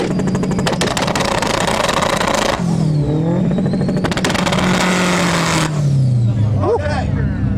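Honda Civic EP3 engine revving in a rev battle, loud and close, with repeated rising and falling revs and a long sustained pull, speech-like voices mixed in.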